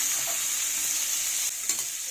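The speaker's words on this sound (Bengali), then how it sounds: "আমি পেঁয়াজটা আর আলুটা একসাথে ভেজে নিচ্ছি" Onions and potatoes fry together in a pan of hot oil for kanta chorchori, giving a steady, close sizzle with faint stirring scrapes throughout and no voices.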